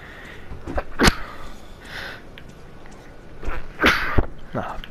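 Sharp, abrupt sneezes burst out in a quiet room during a Metro 2033 Redux playthrough, a couple of short explosive bursts with faint talking and game noise around them.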